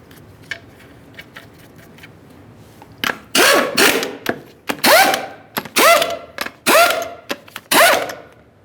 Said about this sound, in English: we'll be torquing each one of our lug nuts to 115 foot-pounds in a crisscross manner